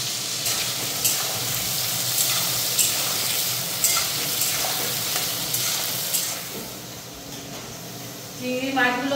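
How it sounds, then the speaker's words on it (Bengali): Prawns fry in a pan, giving a steady hiss and crackle of sizzling oil broken by stirring scrapes, with a voice speaking briefly near the end. "চিংড়ি মাছগুলো ভাজা হয়ে গেছে"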